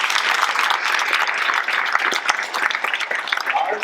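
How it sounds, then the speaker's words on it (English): A crowd applauds steadily throughout at a State of the District address, dense clapping at a strong even level from start to finish. "Let's give them both a round of applause."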